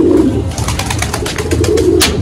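Pigeons coo in a steady, repeated murmur through the whole stretch, close and fairly loud, with a brief sharper bird call near the end and no voices.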